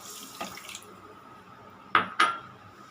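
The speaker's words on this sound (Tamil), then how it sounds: "3/4 கப்பு தண்ணி ஊற்றுறேங்க." Water poured or running into a pan while making sugar syrup for moti ladoo, heard as a faint splash early on and then two short, louder splashy bursts near the end in a quiet kitchen.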